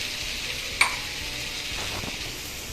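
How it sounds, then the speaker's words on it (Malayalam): Sesame oil heating in a kadai over a gas flame for a dried mango pickle: a steady, soft hiss throughout, with one sharp metallic click early on and no speech. "ഒരു കടായി ഗ്യാസിൽ വെച്ച് ചൂടാക്കാം. ഇതിലേക്ക് നമുക്ക് നല്ലെണ്ണ ചേർത്ത് കൊടുക്കാം"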